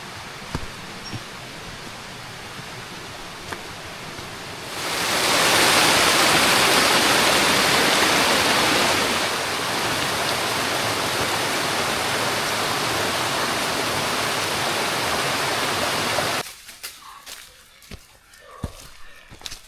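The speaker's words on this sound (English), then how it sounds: "I can hear water." Continuous rushing water on a mountain in Thailand, loud and broadband like a nearby stream or small waterfall, swelling midway then cutting to quieter rustling and footsteps.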